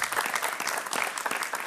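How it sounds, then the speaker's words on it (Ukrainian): Conference audience at a media forum gives a brief burst of dense, close applause welcoming invited speakers, with no talk over it. "Я прошу вас привітати їх оплесками."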